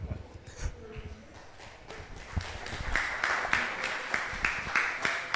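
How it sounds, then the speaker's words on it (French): An audience at a round-table discussion on coaching and mental preparation applauds. Scattered, uneven claps build into a moderate round of applause in a room. "On peut l'applaudir."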